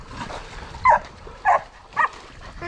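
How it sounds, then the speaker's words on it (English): Hunting dogs on a pig hunt give three short, sharp barks spaced about half a second apart, moderately close over a quiet outdoor background. "dogs!"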